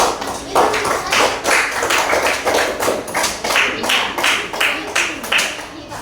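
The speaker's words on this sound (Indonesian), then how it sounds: "Kita berikan aplaus dulu untuk kelompok keempat." A classroom of students gives a round of applause for the fourth group, with steady overlapping claps running throughout, close and moderately loud.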